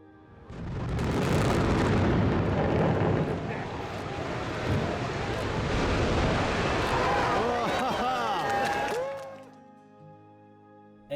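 A building in earthquake-damaged Christchurch is demolished with explosives, giving a loud, sustained roaring rumble that swells, holds for several seconds with crackling debris, then fades out.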